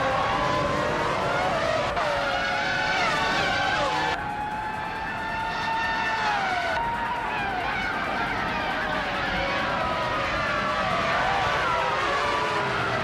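Race cars, including a 1998 McLaren MP4/13, scream through gears at Barber Motorsports Park, with high engine whines rising and falling as several cars pass close, layered over a steady rumble, with talking underneath.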